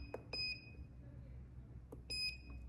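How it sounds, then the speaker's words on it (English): Short electronic beeps from an FXTUL M6 motorcycle intercom on a Ducati SuperSport, two faint chirps spaced apart over a steady low background hum, with no talk. "Oh, so it's the beep."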